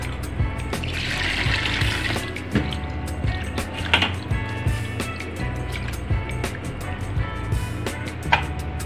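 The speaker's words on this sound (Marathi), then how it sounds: "भरपूर पाण्याने धुवून घेणार आहे।" Small fish being rinsed with plenty of water for a curry, a steady wash of splashing and sloshing with intermittent drips and clatters running through the whole stretch, close by and with no voices.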